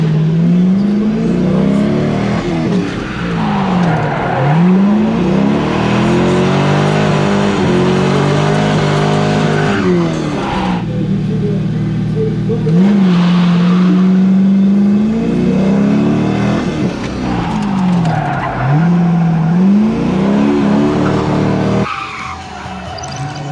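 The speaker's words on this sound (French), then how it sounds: "on va chauffer la voiture" A drift car engine revs hard and repeatedly, rising and falling in pitch with squealing tires, loud and continuous as it drifts around the Formula 1 French Grand Prix track.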